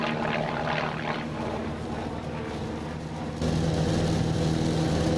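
A propeller aircraft at an airshow rolls slowly along the runway, its engine droning steadily at a moderate distance with a broad rumble that swells in loudness partway through, no talking.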